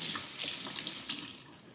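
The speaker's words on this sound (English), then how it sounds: "I just rinsed off my spoon" A spoon is rinsed under a running kitchen tap, giving a brief, close, steady rush and splash of water that tapers off toward the end.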